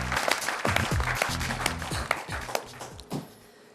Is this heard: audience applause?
yes